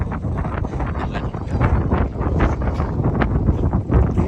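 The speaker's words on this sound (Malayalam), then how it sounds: "എന്താ കാറ്റ്" Gusty wind near a beach in Qatar buffets the microphone in loud, rough bursts, with no voices, just a continuous roaring rush.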